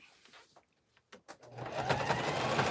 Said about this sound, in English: Sewing my perfect little purple rug in my basement before I do Pilates.